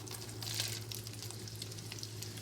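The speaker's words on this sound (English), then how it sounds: "Okay, so our butter's melted. We're going to throw in our onions." Onions hiss gently in melted butter in a pan, a faint, even sizzle with a low steady hum underneath and no talk.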